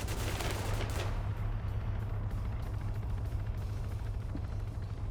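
Machine gun fire in an Arma PvP match, with a sharp burst early on followed by a steady, distant rumble of shooting and low vehicle drone throughout.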